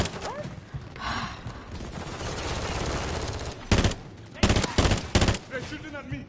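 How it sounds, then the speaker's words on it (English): Gunfire in the video game Call of Duty: Modern Warfare 3, a sustained rumbling barrage of automatic fire under a person talking, followed by several sharp, loud bursts of shots in quick succession near the end. "Everyone, fire your weapons."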